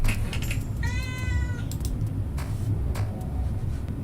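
A pet cat gives one clear, drawn-out meow close by, surrounded by soft rustles and quiet background noise.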